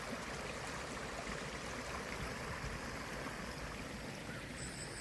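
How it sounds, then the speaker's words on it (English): A mountain stream runs steadily beside freshly cleared irrigation ditches, its broadband rushing and gurgling continuous and fairly close throughout, with no voices over it. "there's always water flowing down from the mountain here"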